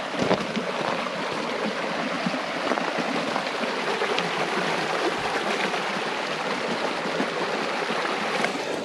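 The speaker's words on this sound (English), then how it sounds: "we get a nice little stream going here, so it's going to be pretty therapeutic at night with the sound of running water" Small, clear mountain stream running beside an off-road campsite near Bridgeport, California, giving a steady, close, unbroken rush of flowing water with no talk over it.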